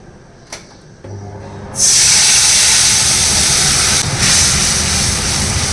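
Turmeric, green chili and salt water poured into hot mustard oil after frying fish, erupting into a loud, steady hissing sizzle that continues close up.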